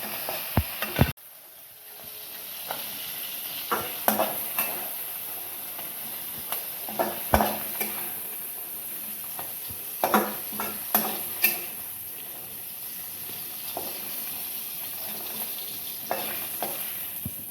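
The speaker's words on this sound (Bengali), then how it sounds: "চিংড়ি মাছটা অলরেডি ভাজতে আরম্ভ করে দিয়েছিলাম আগেই" Prawns frying in a hot pan, a steady broad sizzle with intermittent sharp clicks and scrapes of utensils against the pan, close and moderately loud, no talking.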